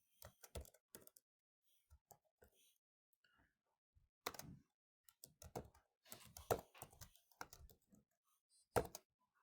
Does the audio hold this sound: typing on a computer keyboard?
yes